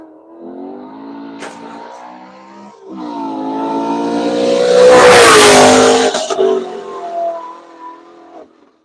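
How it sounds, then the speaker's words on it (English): A Chevrolet Camaro races through a corner on a track at Nelson Ledges during a lap event, its engine revving and shifting in rising, falling sweeps, growing louder to a near roaring pass before fading. "Camaro skating through that"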